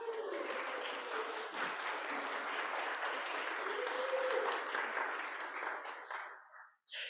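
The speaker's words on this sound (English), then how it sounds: "We give him a round of applause." A congregation applauds steadily for a visiting guest at a Unitarian Universalist service, a dense wash of many hands clapping that holds for several seconds before fading out near the end.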